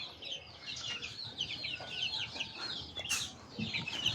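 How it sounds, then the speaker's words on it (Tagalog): Half-grown chicks peep and cheep on a farm, a busy scatter of faint high chirps mixed with occasional clucking from nearby fowl, no talking. "Ito yung mga sisiw. Medyo malaki-laki na."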